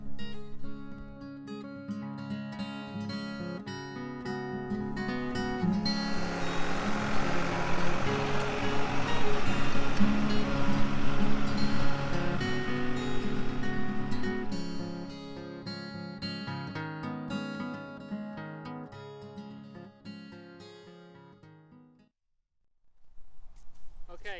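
A vehicle driving a sprayer calibration course passes steadily, its engine and tyre rumble swelling to a broad loud roar midway, then fading before a sudden cutoff and brief return.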